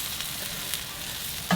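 A grilled cheese sandwich sizzles in a hot pan just after being flipped, giving a steady close frying hiss with a brief louder crackle near the end.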